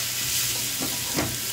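Tiwul fried rice fries in a pan with a steady, close sizzle and a couple of soft stirring scrapes partway through.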